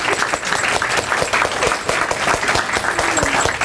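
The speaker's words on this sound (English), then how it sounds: "Let's give a round of applause to our distinguished guests today." Crowd at a National Prevention Week kick-off event clapping for distinguished guests, a loud, even burst of many hands sustained for several seconds.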